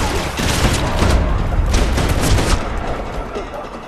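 Dense sustained gunfire in the shooter game Max Payne 3, rapid overlapping shots and booms filling the whole clip at high, steady loudness, with a voice faintly mixed in.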